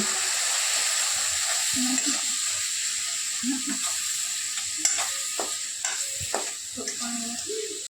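Dabeli masala is stirred with chutney in a hot pan, giving a steady sizzle with scraping spoon strokes and soft clinks under it. A voice speaks faintly.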